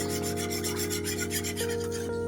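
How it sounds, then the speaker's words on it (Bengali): A milk and cornflour mixture with rose water is stirred constantly in a pan over slow to medium flame, giving a steady, close rubbing scrape of the spoon across the pan bottom, no voices. "এই সময় কিন্তু মিশ্রণটি অনবরত নাড়তে হবে, না হলে কর্নফ্লোর নিচে লেগে যাবার সম্ভাবনা থাকবে।"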